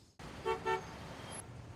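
Car horn honking in rush-hour traffic: two short, bright toots in quick succession over a low steady traffic rumble, fairly near and clear.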